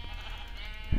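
A short bleat from a sheep in Minecraft, clear and fairly close, ending with a soft thump.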